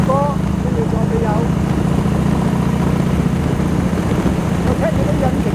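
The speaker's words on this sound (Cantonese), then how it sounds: "我聽住啲引擎聲，哇！ 幾咁震撼！" Motorcycle engine running in the UK, a loud continuous low hum and drone throughout, with a voice speaking briefly over it.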